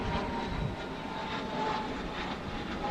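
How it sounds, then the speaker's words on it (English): A small private jet passes overhead during a hike on the Eagle Rock Loop, a steady broadband engine roar that holds at a fairly even level for the whole stretch, with no talk. "there's a little private jet that just flew overhead"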